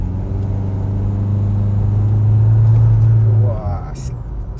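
A remapped Isuzu MU-X 1.9 diesel accelerates at full throttle, its low engine drone swelling steadily louder before a quick rising rev sweep near the end, heard close from the car.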